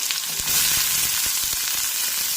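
Chopped shallots hit hot oil with popped mustard seeds for a mushroom thoran, giving a loud, dense sizzle with a few sharp crackles and stirring taps close by, no voices.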